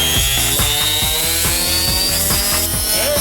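A dental drill spinning at 60,000 RPM, a piercing high whine with a repeating low mechanical chatter beneath it, loud and steady throughout with no talking.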